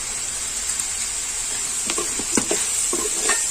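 Chopped tomatoes sizzle softly in a hot pan, with a steady hiss and a few light scraping stirs near the end.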